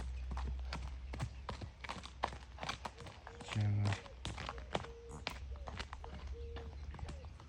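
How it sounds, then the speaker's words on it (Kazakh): A Kyrgyz horse walks at a steady pace, its hooves clip-clopping in an even rhythm close by, while people talk over the hoofbeats. "Қырғыз жылқы."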